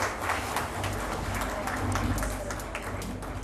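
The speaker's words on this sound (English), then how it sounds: "Let's give a warm round of applause." Steady applause from an audience at the India Today Tourism Awards ceremony, a dense, even patter of many hands clapping that continues throughout at moderate loudness.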